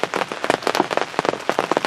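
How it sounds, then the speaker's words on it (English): Rain drums steadily on a hunting blind in the woods, a dense close patter of drops with rhythmic bursts of heavier hits and no voices. "hoping this afternoon's going to quit raining some, at least let up a little bit"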